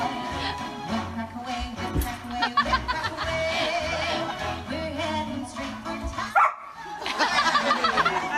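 A dog barks and yips excitedly along with a dance routine on a televised ballroom dance show, the barks repeating over loud music and studio sound, with some laughter near the end.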